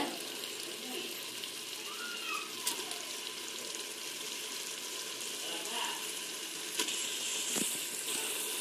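Prawns added to a hot pan of softened onion, tomato and mint leaves for a Tamil-style prawn biryani, frying with a steady broad sizzle and occasional pops and light clinks, close and continuous with no talk.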